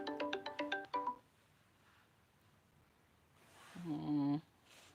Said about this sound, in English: He ain't answering the phone.